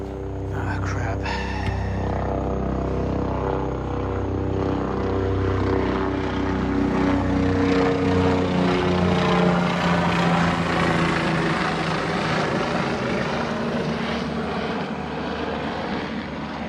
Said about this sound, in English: It's always confidence instilling when you see a chopper searching for somebody at night